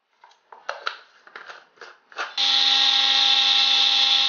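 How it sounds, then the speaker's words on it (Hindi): A kitchen grinder processes roasted flaxseed with salt. A few clattering knocks of handling come first, then the motor starts with a loud, steady high whine that continues alone to the end. "उसको मैंने ग्राइंडर में डाल दिया है और इसमें डाल रही हूं नमक और अभी इसको ऐसे ही मैं ग्राइंड करूंगी"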